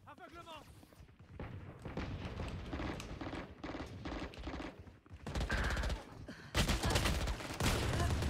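Phantom rifle fire in Valorant, loud rapid bursts and booming shots through most of the span, with someone talking over them and heavy blasts near the end.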